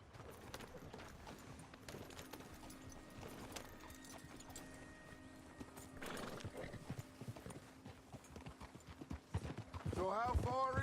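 Horse hooves clip-clop rhythmically in Red Dead Redemption 2 as the horse is ridden, steady and close, ending with a neigh, under game voices and a faint musical drone.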